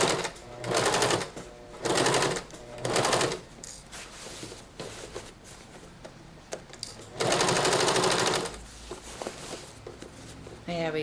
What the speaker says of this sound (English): that's when I stitch over it.